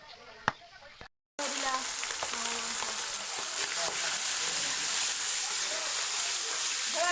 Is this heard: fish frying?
yes